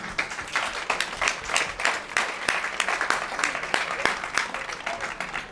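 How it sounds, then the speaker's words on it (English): A crowd gives a round of applause at a Wexford ladies football match, sharp individual claps standing out from a loose, irregular outdoor ovation that stays fairly close and continuous. "I think they deserve a huge round of applause."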